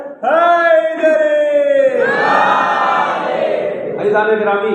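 A crowd at a religious majlis gathering roars the devotional Nara-e-Haideri chant in unison, loud sustained voiced shouts rising in a few long waves close and full.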